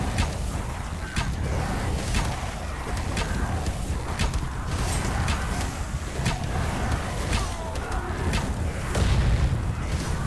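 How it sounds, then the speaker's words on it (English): Muffled booms and blasts roll through a busy battle soundscape in the zombie survival game Night of the Dead during a late wave, with steady rumbling noise and scattered sharp impacts. "Oh, yeah, there goes an explosion."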